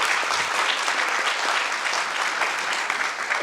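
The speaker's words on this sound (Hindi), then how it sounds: "जोरदार तालियां हो जाएं।" Steady, dense applause from a theatre audience at a Bhopal drama festival, loud and continuous throughout.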